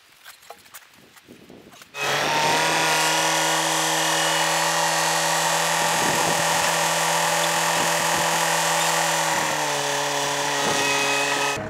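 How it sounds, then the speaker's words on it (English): Hydraulic torque wrench starts up and runs as a loud, steady mechanical drone on a Yanmar Vio-75 excavator bucket cylinder, close by, with a slight pitch shift near the end. "That's the only hydraulic torque wrench I have."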